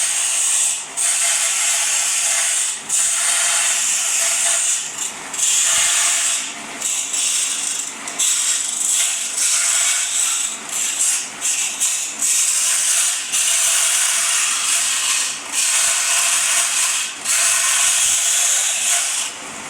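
A Forestwest 4 x 6 inch 0.5 hp belt and disc sander grinds a piece of aluminium into a disc, giving a steady loud hiss and rasp with brief dips as the metal is worked freehand, with no talk.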